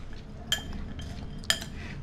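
A spoon mixes samosa chaat with lemon juice and fried gram-flour strands in a bowl, giving two sharp metallic clinks about a second apart over soft background rustle.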